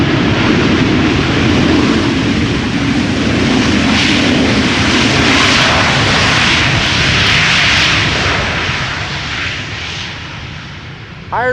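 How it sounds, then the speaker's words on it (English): A 19-year-old Irish-registered SAS airliner arriving at Amsterdam Schiphol Airport roars past loudly with a broad, steady engine rush that eases off near the end. "This airplane is 19 years old, began flying in October of the year 2004"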